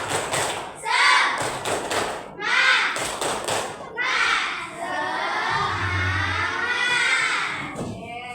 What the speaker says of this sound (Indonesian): semuanya sama-sama kita tepuk semangat dulu